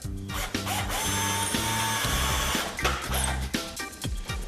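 A power drill bores a hole through plasterboard in stuttering bursts, with a pitched whirring motor, close and loud, separated by brief pauses and a scraping rub.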